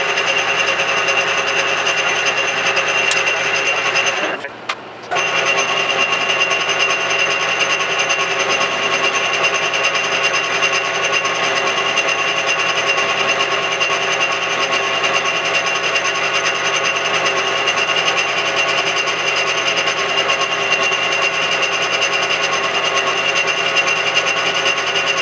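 Metal lathe cutting down a gun barrel, a loud steady machine drone with a constant tonal hum, briefly dipping once early on, then running on unchanged with no voices.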